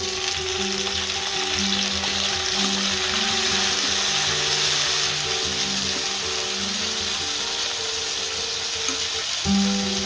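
Chopped tomato sizzles in a hot pan with Kashmiri chili over a medium flame while cooking paneer butter masala, a steady close frying hiss with a faint melodic tone running underneath.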